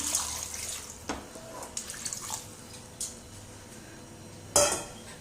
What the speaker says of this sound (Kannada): ಇವಾಗ ಇದಕ್ಕೆ ನೀರು ಆ್ಯಡ್ ಮಾಡ್ತೀನಿ